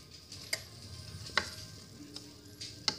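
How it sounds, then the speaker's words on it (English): Carrots stirred around in a pan give sparse, sharp utensil clicks and scrapes over a faint, quiet sizzle. "I'm just stirring these carrots around a little bit"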